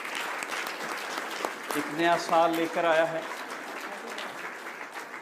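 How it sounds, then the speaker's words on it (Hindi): A church congregation at a Thanksgiving service claps, a broad steady patter of applause running throughout while someone speaks over it through the middle. "जोरदार ताली बजाएं।"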